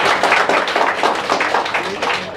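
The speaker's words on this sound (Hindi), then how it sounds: "बहुत बढ़िया, ताली बजाओ रे" Students in a railway ALP/technician reasoning class clap together in a quick, steady burst of close, sharp claps lasting a couple of seconds.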